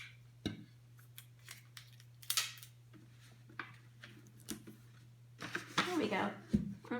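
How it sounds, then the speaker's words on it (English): Tape is torn and pressed onto the bottom of a container in short ripping and crinkling bursts, heard near and alongside a steady hum and a person talking. "So I'm going to put a little bit of tape down here on the bottom also"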